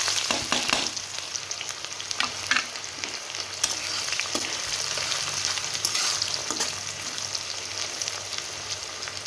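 Onions dropped into hot oil with nigella seeds fry with a loud, continuous crackling sizzle, broken by brisk spatula stirs and occasional sharp pops, close up with no voices.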